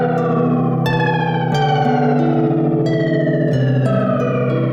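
A desktop delay and reverb unit by Erica Synths and 112dB processes steady synth chords, with each new note leaving echoing, reverberant tails that overlap into a continuous, loud wash with no talking.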